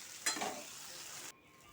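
Spices with turmeric fry lightly in a wok, giving a steady close sizzle with a brief stirring scrape near the start, then stopping abruptly.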